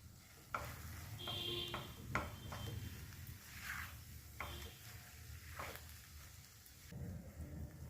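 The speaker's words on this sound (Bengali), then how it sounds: "এবার গ্যাসটাকে হাই ফ্লেমে রেখে 1 থেকে 2 মিনিট নাড়াচাড়া করব।" Potato stuffing with chopped coriander stirred in a pan over a high flame, a low continuous sizzle with occasional scraping and knocking strokes of a spatula, fairly quiet.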